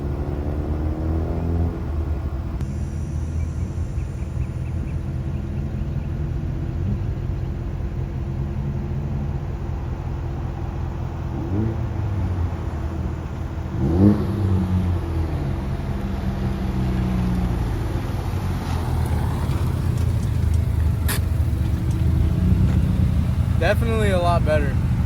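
A 2014 Ford Focus ST is driven back and forth after a brake booster install, with a steady low engine rumble, light revs and occasional knocks and clicks while people talk over it.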